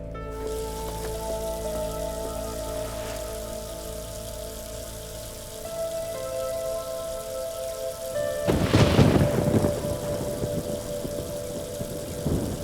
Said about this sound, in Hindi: बारिश शुरू होने वाली है।